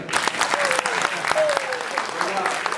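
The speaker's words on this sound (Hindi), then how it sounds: "ताली बजा दी ताकि मैं चला जाऊं।" Audience applause following a Hindi-Urdu poetry recital, a moderate continuous patter of clapping with a few sharper claps, and a voice speaking briefly over it.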